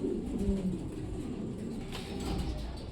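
A Blue Bar Mundian pigeon coos softly and close by, giving a few low, throaty calls on their own with no talk.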